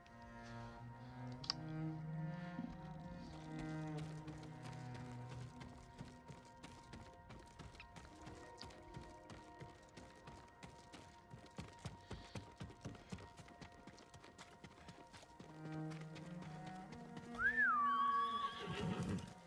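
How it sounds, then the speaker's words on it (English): Horse in a broadcast test, hooves clip-clopping in a quick run that grows nearer, then a loud shrill whinny near the end, mixed with musical tones and no speech. "the horse came running in from behind me"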